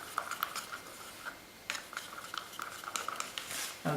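Paint pour mixture with silicone lubricant stirred in a cup, a steady scraping and clinking of the stick against the cup wall, close and moderately quiet, repeating in short bursts.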